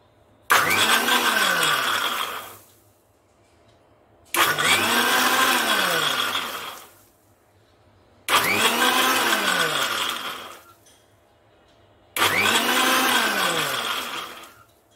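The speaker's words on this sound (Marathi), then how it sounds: "डाळिंबाचा ज्यूस मिक्सरला फिरवताना पल्स मोडवर फिरवायचा आहे" A kitchen mixer blender pulsed four times while making pomegranate juice with cold water, each burst a loud whirring roar of about two seconds that spins up and winds down, separated by quiet pauses.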